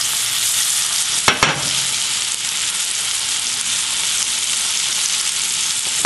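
Mushrooms sautéing in butter in a pan throw off a loud, steady, close sizzle that runs the whole time, with a couple of brief knocks from the stirring utensil near the start.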